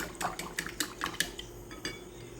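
Egg white being mixed into a bun dough mixture in a bowl, with a run of quick, light clinks and scrapes of a utensil against the bowl, close and fairly soft, no voices.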